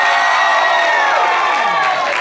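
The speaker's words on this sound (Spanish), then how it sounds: "Así que aplausos para Bebo." A studio audience on a comedy game show applauds and cheers for contestant Bebo: a dense, steady wash of crowd noise with whoops and raised voices mixed in, loud and close throughout.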